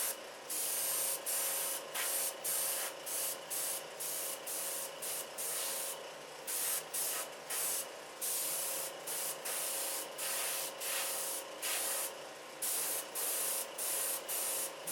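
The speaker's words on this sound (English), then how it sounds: "Nice thing about working with an airbrush is it doesn't take long for the paint to dry either" Airbrush spraying paint in light coats, a soft close hiss broken into short regular bursts of roughly half a second to a second, repeating steadily with brief gaps between passes.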